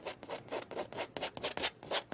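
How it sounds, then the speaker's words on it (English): A painting knife being scraped clean of excess oil paint, a quick run of rough rasping strokes in an even, repeated rhythm, close and alone. "scrape off all the excess paint"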